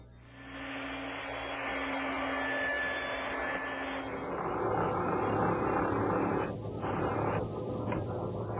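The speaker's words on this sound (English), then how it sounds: "Now my drum sander does a nice job smoothing up the sawn edges." A drum sander smoothing the sawn edges of wooden shelves starts up and runs as a steady, moderate mechanical hum and grind, its tone shifting as the wood is worked against the drum.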